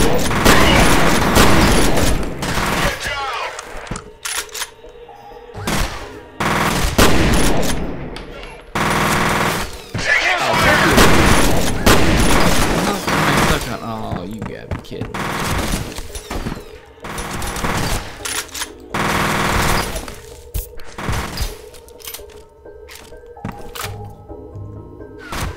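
Rapid automatic gunfire in the shooter game F.E.A.R., with loud bursts of machine-gun fire and booming shots coming in dense, repeated volleys broken by brief pauses.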